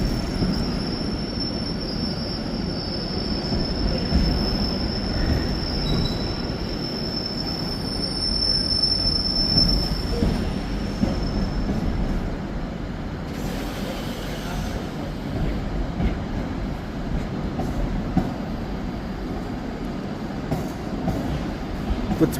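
A train rolls through Carlisle station with a loud, continuous rumble and a thin, sustained wheel squeal over it, lasting the whole stretch.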